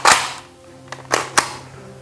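A Buzz Bee toy blaster pistol fires foam darts, giving a few sharp, snappy pops spaced apart, the first loudest, with a faint steady hum underneath and nothing else.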